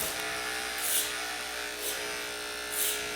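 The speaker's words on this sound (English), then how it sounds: "I really like to use the clipper over comb." Electric hair clippers buzz steadily while cutting a boy's hair using clipper over comb, with the tone rising in three brief surges as the blades pass through the hair.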